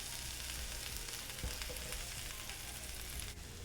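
Chicken breasts and zucchini cooking on an Ikich electric griddle, giving a steady, soft sizzle that stays even and fairly quiet for a few seconds without any talk.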